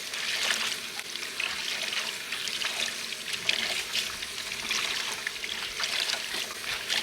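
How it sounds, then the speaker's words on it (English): A luffa sponge is rinsed and squeezed in a bin of water, giving steady close trickling, dribbling and swishing splashes that continue throughout with no voices. "you can start rinsing it and squeezing it and swish it around in the water a little bit."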